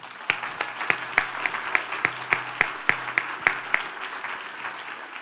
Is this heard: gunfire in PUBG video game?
no